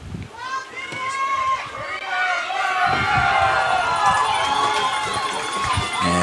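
A crowd at a Canadian U16 football gold-medal game between Quebec and Ontario at a university stadium cheers and shouts, a lively mass of voices rising and falling, with a commentator talking over it.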